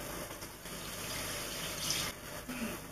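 Milk and water being poured all at once into a pan while cooking pork tenderloin medallions with Gorgonzola, a steady close liquid gush and splash lasting throughout with no talk over it.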